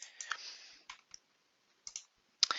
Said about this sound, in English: if you click on the hide or show album button, it alternates when you click on it